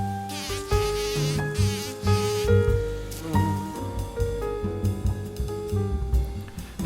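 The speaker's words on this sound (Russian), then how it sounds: "Шмель обхватывает лапками цветок и производит пронзительное жужжание." A bumblebee clinging to a flower buzz-pollinates it with loud, sustained high-pitched buzzing that rises and falls in close, continuous waves, layered with tonal background sound.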